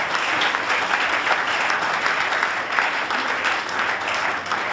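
A church congregation claps together in sustained, dense applause that fills the room evenly for several seconds at a loud, constant level.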